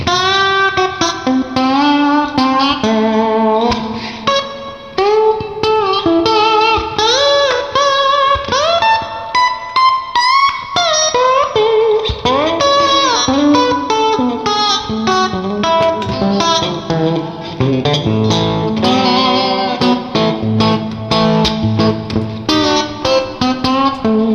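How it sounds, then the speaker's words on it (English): Slide played on a Fender Stratocaster electric guitar with plate reverb, gliding, sustained notes and phrases washed in lush reverb, loud and continuous for the whole stretch. "I'll just try some slide on the Strat"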